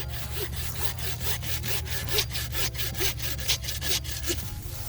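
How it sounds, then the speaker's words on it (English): A bow saw cuts through the trunk of a Christmas tree at a tree farm, steady rhythmic back-and-forth rasping strokes about twice a second, close and continuous, with a low hum underneath. "grab your trusty bow saw or hatchet or whatever you may have to cut with. And then you'll get in there and get it cut right down"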